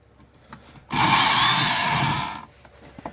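A WorkSharp KO belt knife sharpener runs in one steady whirring burst of about a second and a half, close and loud, with a brief tonal whine as the blade meets the belt, then stops.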